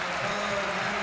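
Large crowd at El Sardinero stadium applauding Nando Yosu, a brief burst of thick, even clapping and crowd roar.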